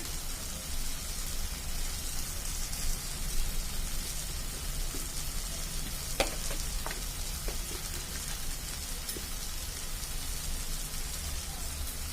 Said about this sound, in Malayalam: ഇനി നമുക്കിതിലേക്ക് ഒരു രണ്ട് ടീസ്പൂൺ മുളക് പൊടി കൂടി ചേർത്ത് കൊടുക്കാം